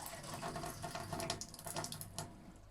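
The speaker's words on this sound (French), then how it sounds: "on entend l'eau. Et voilà, l'eau est en train de passer." Water flowing steadily through a ceramic and charcoal filter, a continuous close trickling and splashing stream with small bright drips, heard alone without voices.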